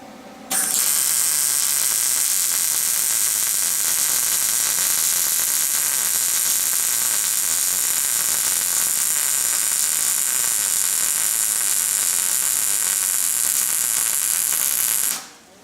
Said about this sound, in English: I'm going to go ahead and weld that whole top joint